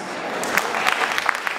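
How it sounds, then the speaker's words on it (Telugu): An audience at an Ugadi celebration hall bursts into brief, dense applause, a steady wash of many hands clapping together at moderate loudness. "గట్టి క్లాప్స్"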